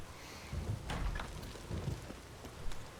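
Steady rain patters throughout at night in the video game The Witcher 3: Wild Hunt, with low rumbling swells of thunder rolling in the background; no voices.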